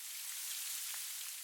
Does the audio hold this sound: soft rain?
yes